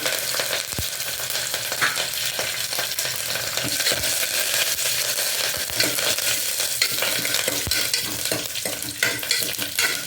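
Mustard seeds, cumin, dried red chilies and curry leaves sizzle hard in about two spoons of hot oil. A loud, dense, steady crackle carries on throughout, with an occasional sharp pop and faint stirring, and no voices.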